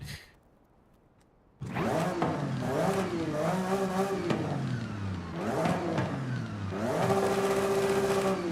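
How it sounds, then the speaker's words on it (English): A Porsche 4-liter flat-six engine, fitted as a swap into a car in Forza Horizon 5, starts up from near silence and revs loud and close in repeated rising and falling sweeps. "this is definitely a Porsche engine. This is a Porsche engine. 4 liter flat 6."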